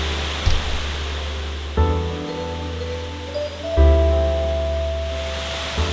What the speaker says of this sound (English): Enjoy the waterfalls over here.